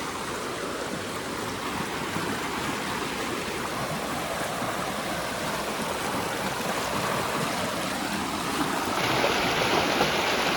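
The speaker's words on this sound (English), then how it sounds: "Here is the creek." Creek water rushes steadily and loudly over rocks in Snake River Canyon, a continuous close-up flow with no voices.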